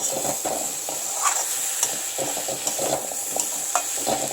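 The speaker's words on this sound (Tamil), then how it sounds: "இப்போ வந்து இந்த சாம்பார் பொடியும் மஞ்சள் பொடியும் போடுறேன், போட்டு 1 நிமிஷம் வதக்கிட்டு" Onions sautéed in a pan with sambar powder and turmeric powder give a continuous close sizzle with hiss. Repeated stirring scrapes run through it, and no one talks.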